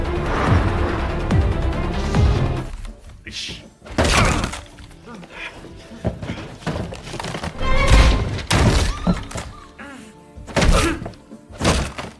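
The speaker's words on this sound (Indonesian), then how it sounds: "tiba-tiba Jung datang dengan mobilnya dan menabrak bos mafia itu hingga tak sadarkan diri" A car slams into a man in a gangster film: heavy thumps and shattering crashes strike repeatedly in loud, close bursts with brief pauses between.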